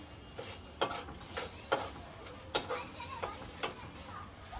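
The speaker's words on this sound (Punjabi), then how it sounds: "ਹੁਣ ਅਸੀਂ ਇਹਨੂੰ ਅੱਛੀ ਤਰ੍ਹਾਂ ਮਿਕਸ ਕਰਦੇ ਹਾਂ" Tamarind chutney with jaggery being stirred in a pan, a spoon scraping and clinking against the metal in irregular strokes over a soft sizzle, close and fairly quiet, with no talking.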